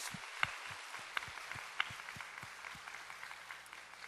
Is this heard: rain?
no